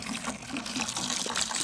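Water, mixed with Purple Power cleaner, poured into a bucket while cleaning a salvage Miata: a steady, close rushing splash that lasts throughout, with no voices.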